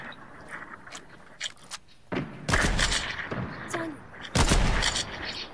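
Gunfire in the Fortnite battle royale game, with bursts of shots and sharp impacts in the second half, against a busy background of game sounds and players talking.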